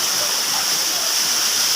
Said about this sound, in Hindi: हम लोग एक और झरने पे आ गए